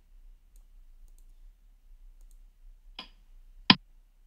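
Two short, sharp PowerPoint click sound effects in near silence, the second louder and crisper than the first.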